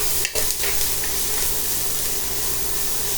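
Sausage, beans and garlic stir-frying in a pan: a steady, loud, close sizzle that fills the whole stretch, with a brief scrape of stirring near the start.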